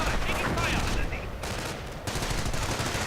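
Rapid machine-gun bursts rattle close and loud in a World War II video game, fired as dense repeated volleys with brief pauses between them. A faint voice may sit under the gunfire.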